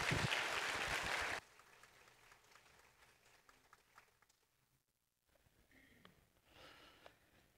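A church congregation claps to welcome Pastor Yoo In-hyun of New Frontier Church in New York to the pulpit: a short, loud burst of applause at the start that cuts off into a quiet room with faint rustling.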